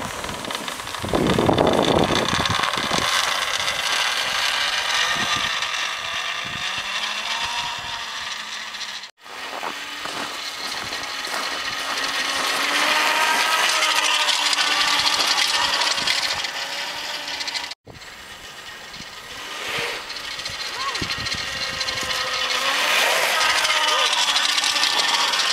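Zero electric motorcycle pulling away on a South Dakota winter road, a rising whirring motor whine with rattling and road noise, broken by brief cuts, while people talk over it.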